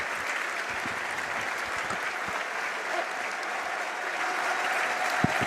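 Fans around a football ground at Millwall v Charlton applaud together, a broad, steady wash of clapping heard from a distance for several seconds.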